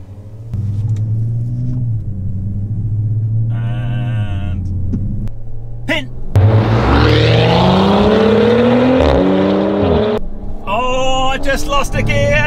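Audi RS4, Revo Stage 2 Audi S4 and stock Audi S4 in a drag race, engines idling then roaring loud under hard acceleration with rising revs and gear changes, heard from inside a car with talk over it.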